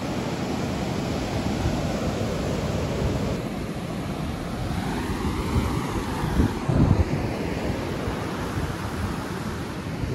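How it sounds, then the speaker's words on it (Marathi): Sea waves break on the Konkan shore in a steady, full roar of surf mixed with wind rush, continuous and close with no voices over it. "या बघा लाटा."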